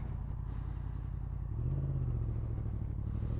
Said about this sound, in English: Off-roading in the MT-10.